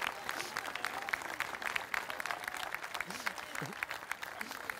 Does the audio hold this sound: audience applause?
yes